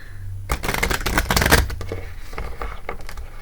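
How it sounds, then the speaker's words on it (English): Rapid riffling of a deck of tarot cards being shuffled, close and crisp, in a few quick bursts with softer handling noises between. "getting better at shuffling"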